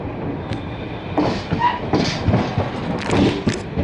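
An Indian passenger train, the Farakka Express with LHB coaches, gives a low steady rumble with faint clanks and a brief high squeal, heard nearby with no voices.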